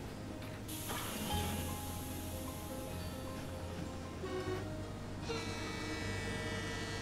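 A train in the Rolling Line model railway simulator rumbles and hisses along, a steady mechanical drone with shifting tones and bursts of hissing, moderately quiet and without talk.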